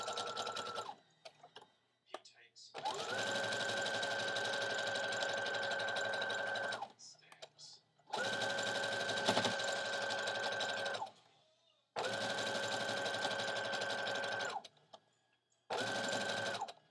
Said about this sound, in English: So just sew all the way around.